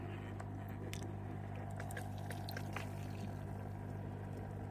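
Water pouring and splashing out of a SICCE Shark Pro aquarium filter, a steady close trickle over a constant low pump hum, with small spatters and drips on top and no speech.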